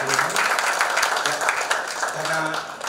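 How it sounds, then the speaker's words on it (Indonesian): Dense, steady applause from a conference audience in Indonesia, continuous and fairly loud throughout, with a voice faintly mixed in beneath the clapping. "Sekali lagi tepuk tangan kepada narasumber kita yang luar biasa hari ini"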